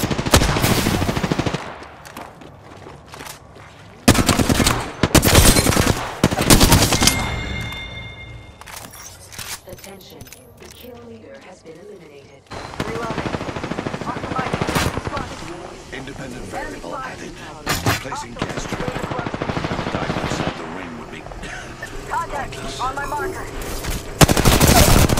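Gunfire from the Apex Legends video game crackles in loud, rapid automatic bursts and repeated volleys, broken by brief pauses, with game voice callouts heard in between.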